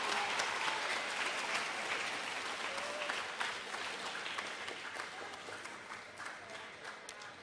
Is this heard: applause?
yes